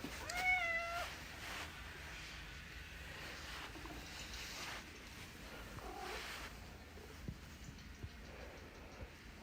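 Indoors, a cat meows once, a short bending call near the start, then it is quiet apart from faint rustling and low background noise, with no talk.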